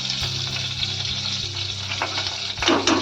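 Mustard seeds sizzle and crackle in hot oil, a dense, loud, continuous frying hiss up close, with a few sharper pops toward the end.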